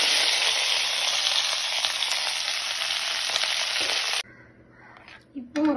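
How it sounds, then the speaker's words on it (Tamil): Loud, steady sizzling of okra sautéing in a hot pan for several seconds, then it cuts to quieter clinks and brief talking. "இந்த வெண்டைக்காயை போட்டு வதக்கணும்."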